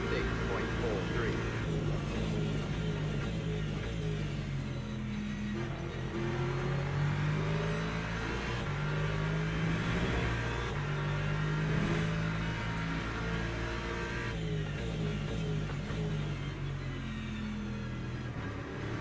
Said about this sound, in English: here come the hypercars